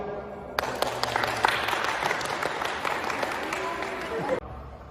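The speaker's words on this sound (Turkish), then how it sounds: "Alkışlayalım." Audience at a goalball match applauds and murmurs in an indoor hall, a steady wash of clapping and crowd noise that starts abruptly and runs for about four seconds before cutting off.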